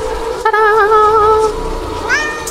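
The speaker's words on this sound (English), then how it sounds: "Woo, cat." A cat meows twice in the Burnhouse Lane video game, a long, clear, tonal meow followed by a shorter rising one, close and loud with no talk.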